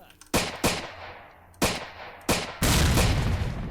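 Pistol fire in the S.T.A.L.K.E.R. Shadow of Chernobyl OGSE mod: four sharp, loud shots spaced irregularly, then a dense, continuous burst of gunfire that carries through to the end.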